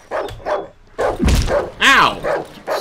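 A dog in the video game Darkwood barks repeatedly in a quick, irregular string of sharp, close woofs and yips, loud and alone without talk.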